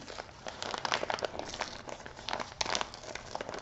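A parcel being unwrapped by hand, its paper crinkling and rustling in close, busy bursts with brief tearing crunches, continuous for a few seconds with no talk.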